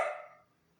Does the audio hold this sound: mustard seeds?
no